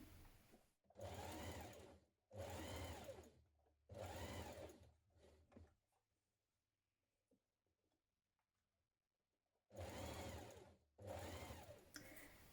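A sewing machine stitches a blouse tie with a 1 cm seam, running in several close, loud bursts of rapid whirring stitching separated by brief pauses and a longer quiet stretch.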